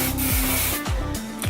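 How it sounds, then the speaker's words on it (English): A can of volumizing hair spray shaken hard, a few quick, close back-and-forth rattling strokes in a rapid rhythm. "you just want to shake it up"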